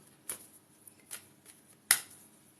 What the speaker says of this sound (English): let's give these cards a good old shuffle.